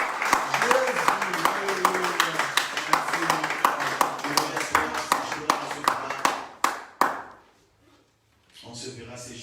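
A church congregation claps in rhythmic unison, many hands close and loud, then the clapping stops abruptly and voices murmur faintly in the quiet after.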